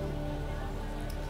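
Rain falls in Chiang Mai, Thailand, as a steady, dense patter on surfaces that holds even throughout a brief stretch without speech.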